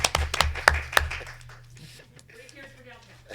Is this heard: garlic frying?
no